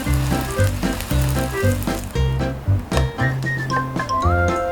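Crab-stick and perilla-leaf pancakes pan-fry in oil with a soft, steady sizzle beneath prominent tonal music with a clear beat.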